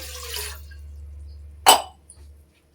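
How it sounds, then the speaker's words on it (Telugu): A glass of water is poured into a bowl on the stove. A short, sharp splash stands out against a faint background hum, followed by a few small drips. "అందులో ఒక గ్లాస్ వాటర్ వేసేసుకోవాలి."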